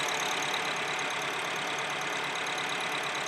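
A 2004 Acura engine with a misfire idles steadily and close up through the whole stretch, a continuous mid-low hum with faint irregular roughness and no voices.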